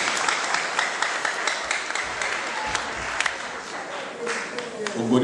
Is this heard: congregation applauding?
yes